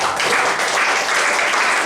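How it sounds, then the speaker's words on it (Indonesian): Church congregation applauding during a sermon, a steady dense wash of clapping at close range throughout with no talk over it. "Kita berikan tepuk tangan dulu."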